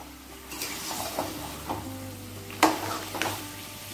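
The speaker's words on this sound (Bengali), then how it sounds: "মাংসটা 5 মিনিট কষিয়ে নিয়েছি।" Chicken pieces coated in yogurt sauté in a little oil in a pan over raised gas, giving a low steady sizzle broken by occasional scraping stirs and a couple of sharper utensil clinks.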